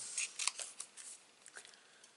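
Scissors snipping out paper pieces for a stippled blossom card, a rapid run of crisp close cuts early, then sparser, fainter snips trailing off.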